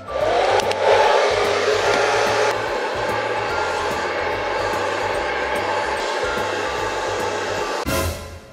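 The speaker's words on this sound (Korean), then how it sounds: "난이도 제일 높은 게 뭐냐면 바로 이거예요, 이거. 드라이기." A handheld hair dryer blows steadily at close range, a loud continuous whooshing roar with a shift in pitch partway through before clicking off near the end.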